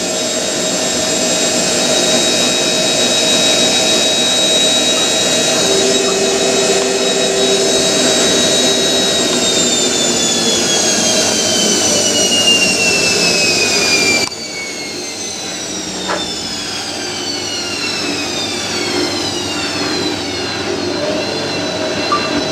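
Hotpoint 9530 washing machine motor spinning on new carbon brushes, a loud steady whine with a high pitch gliding downward as it changes speed, slightly screechy, no talking.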